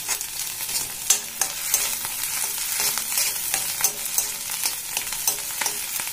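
Potato halwa stirred and scraped around a hot pan, a steady frying hiss broken by repeated sharp scraping strokes of the spoon against the pan's sides, close and fairly loud with no talking.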